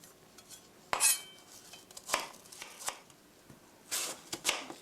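Knife slicing an apple into thin slices on a cutting board, a handful of sharp, crisp cuts at uneven intervals, close and clear with no talk.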